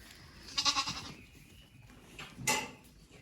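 Ewes and lambs penned in a sheep-handling area during lambing season bleat in two clear bursts, close and fairly loud, over a low background hum with no talk.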